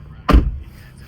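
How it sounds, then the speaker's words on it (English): A single solid thud of a car door shutting nearby, short and loud, followed by a brief fading rumble. "let's close the doors"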